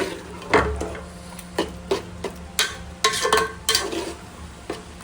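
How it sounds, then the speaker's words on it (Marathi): Prawn biryani gravy fries in a pan while a spatula stirs it in repeated scraping strokes over a low, steady sizzle, heard up close. "आता मस्तपैकी फ्राय करून घेऊया."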